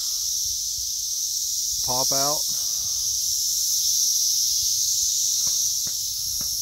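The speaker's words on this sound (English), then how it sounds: "Wow, that is a lot of cicadas." A dense, continuous high-pitched drone of a 17-year cicada chorus fills a summer garden, a loud unbroken buzzing wall of sound, while someone speaks briefly over it and a few faint clicks sound nearby.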